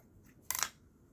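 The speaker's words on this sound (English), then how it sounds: "Cut here, and then cut off that bottom leaf all the way here." A single crisp snip of scissors cutting through a philodendron stem and leaf, one short sharp burst close by against a quiet background.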